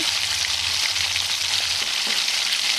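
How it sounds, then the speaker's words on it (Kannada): Long pieces of eggplant fry in a pan with oil, giving a dense, steady, close sizzle that stays even throughout, with no one talking. "ಬದನೆಕಾಯಿ ಅಲ್ಲಿ ತನಕ ಫ್ರೈ ಮಾಡ್ಕೊಳ್ಳೋಣ"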